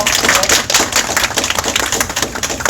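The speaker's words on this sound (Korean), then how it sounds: "크게 박수로 환영해 주십시오" Audience clapping to welcome a political party leader at a campaign event, a brief burst of dense, loud hand claps with no talk over it.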